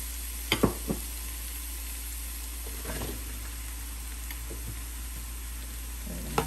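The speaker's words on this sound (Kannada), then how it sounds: "ಕಟ್ ಮಾಡಿರೋ ಬೆಂಡೆಕಾಯಿ ಹಾಕ್ತಾ ಇದ್ದೀನಿ" Cut okra tipped into a pan of frying onions: a soft, steady sizzle under a low hum, with a few brief knocks and rustles as the pieces drop in, close but quiet, no voices.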